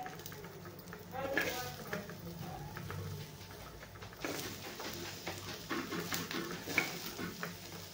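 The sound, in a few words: onion frying in a pan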